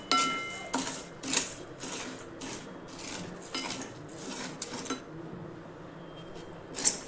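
Sabudana (sago pearls) dry-roasting in a kadhai over a low flame on a small stove, with a metal spoon scraping and clinking against the pan in irregular strokes, close and fairly quiet.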